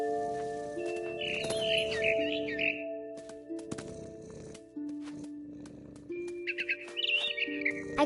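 Birds chirp in short bright bursts within the video game What Remains of Edith Finch, set over sustained musical tones and soft ambient sound, moderately loud and close.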